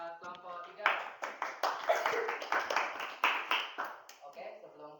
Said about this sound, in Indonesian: Beri aplaus buat kelompok 3.